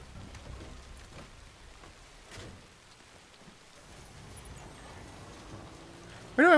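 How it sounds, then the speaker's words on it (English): Steady rain falls in the Death Stranding video game, a soft continuous patter with occasional faint drops and rumbles, kept low in the background before a brief sharp tone at the end. "is this just gonna keep raining like this until I do the next story thing?"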